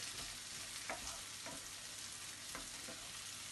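Peppers, onion and tomatoes fry in a pan for Hungarian and Transcarpathian lecho, giving a steady, quiet sizzle with a few soft scrapes of stirring at irregular intervals.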